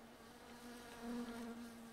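Flies buzz in the video game My Summer Car, a faint, thin continuous drone that briefly swells louder as one passes close, then fades back to a quiet hum.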